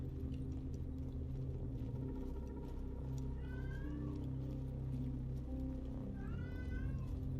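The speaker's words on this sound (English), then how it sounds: "If you're hearing meowing in the background, it's my cat." A house cat meows twice in the background, thin and fairly faint, over the steady low rumble of a space game's cave ambience during play.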